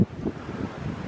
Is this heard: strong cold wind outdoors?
yes